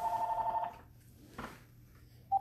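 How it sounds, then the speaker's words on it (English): A telephone rings indoors with a rapid trilling bell burst, followed by a soft clunk and a short electronic beep, fairly faint in a quiet room. "phone ringing."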